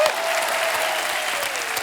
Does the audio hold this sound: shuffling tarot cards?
no